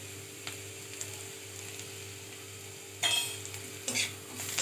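Turmeric fries with lightly browned onions in a pan, a quiet steady sizzle under a low hum, then two louder bursts of spatula stirring and scraping near the end.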